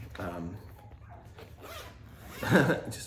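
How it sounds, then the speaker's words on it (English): A quick zipper pull on an IVESIGN padfolio rasps loudly near the end, following a stretch of quiet talking and low background hum. "The zipper worked so nice."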